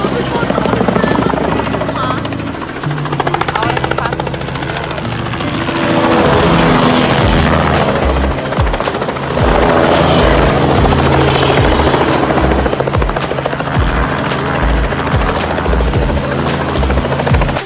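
A helicopter flies overhead, its rotor thudding in a steady, loud pulse with engine whine, the sound swelling and easing as it passes, accompanied by some background speech.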